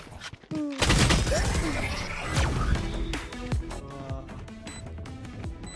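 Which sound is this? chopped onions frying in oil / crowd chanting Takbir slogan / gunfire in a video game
gunfire in a video game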